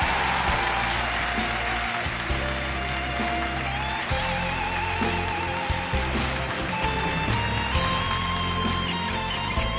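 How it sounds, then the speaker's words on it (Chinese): Audience applause at a televised relationship show, a steady wash of clapping held throughout at moderate level, blended with sustained music tones. "哎呀，来，掌声热烈一点。"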